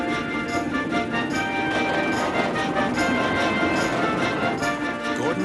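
A train rushes past at close range, a loud, steady rumble with rhythmic clatter from the wheels and a broad wash of noise throughout.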